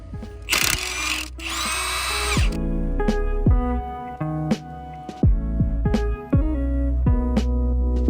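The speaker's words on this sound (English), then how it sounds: "All that's really left to do right now is to pull these head bolts out." Power tool, likely an impact wrench, breaking loose and spinning out cylinder head bolts on a Honda Civic D-series single-cam engine: a long loud burst, then about a dozen short, close, sharp whirring pulls in an irregular rhythm, with no talking.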